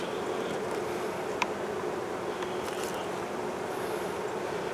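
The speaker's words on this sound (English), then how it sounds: "can hear the bees getting more excited." Honey bees buzzing excitedly at a hive on a windy day, a dense steady hum filling the clip at moderate distance, with a faint click or tap briefly breaking through.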